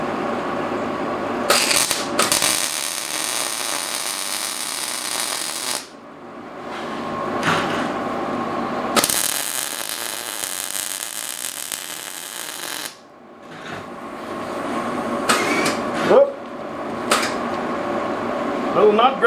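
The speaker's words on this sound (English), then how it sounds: "let's go ahead and get this thing welded" Half-inch square steel stock is MIG-welded in a shop, with two sustained buzzing, crackling bursts of several seconds each amid shorter tacks and clanks, close and fairly loud.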